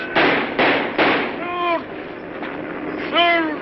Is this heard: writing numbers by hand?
no